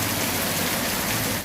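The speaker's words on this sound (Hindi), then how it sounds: "मूसलाधार बारिश की मेवाड़ में जमकर हो रही है।" Heavy monsoon rain pours down in Mewar, a dense, loud, continuous roaring hiss of water across the whole moment with no voices.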